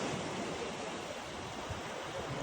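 Pacific Ocean surf washes onto a beach on Kauai in Hawaii as a steady, unbroken rush of broadband wave noise, close and fairly loud, with no voices.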